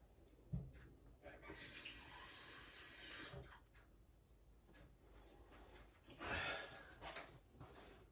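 A kitchen tap runs cold water in two bursts, a loud hissing stream for about two seconds, then a shorter gush later, with small clunks and handling noises between.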